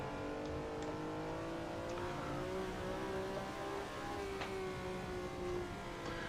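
A 1967 historic race car in a simulated Nordschleife racing game revs steadily, its engine note droning and climbing through the gears at moderate volume with no voices.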